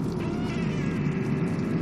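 A cat meows in the video game Stray, where the cat is injured in the leg and cannot walk, giving a single drawn-out, plaintive meow that is close and fairly loud, with no talking over it.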